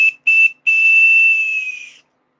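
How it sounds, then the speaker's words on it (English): A loud hand whistle shrills three times, two short bursts and then one long sustained blast that fades out. "Gave you the old weenie whistle for the donation."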